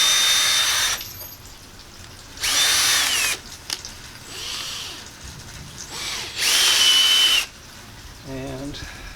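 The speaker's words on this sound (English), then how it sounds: "So the eventual size of drill bit I have to go through that with is this one here." A power drill whirs in three short bursts, close up, boring a pilot hole in metal tube, with quiet pauses and faint handling sounds between them.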